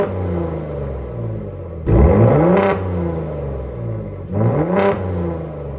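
A Gen3 Ford Raptor F-150 with an AWE catback exhaust idles with a deep rumble, then gives two sharp revs in normal mode to around 3,000 to 4,000 RPM, each rising and falling back, close and loud.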